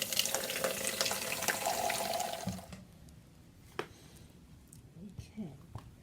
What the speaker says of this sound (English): Some water in the sink.